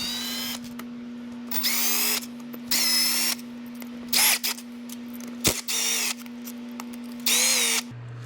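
A power drill spins out the six bolts holding the dust cover on a manual locking hub of an OBS Ford truck, with repeated short high whining bursts separated by brief pauses, close and loud over a steady background hum.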